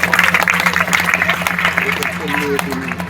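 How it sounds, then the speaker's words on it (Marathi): Audience applause at a prize ceremony for a rangoli competition, a steady wash of clapping from a crowd running throughout with a voice talking over it. "टाळ्यांचा गजर करायचा आहे."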